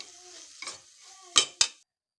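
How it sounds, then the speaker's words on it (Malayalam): Spices and masala powder are stirred and sautéed in a pan for tomato rice, giving a soft steady sizzle broken by a few sharp spoon scrapes and taps against the pan. "ഇതൊക്കെ ചേർത്തിട്ട് നമ്മൾ ഒന്നുകൂടി വഴറ്റിയെടുക്കണം"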